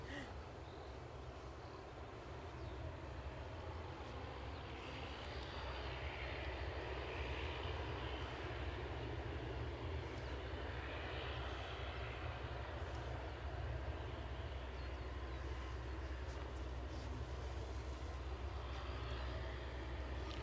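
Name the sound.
ATR turboprop airliner on final approach at Aberdeen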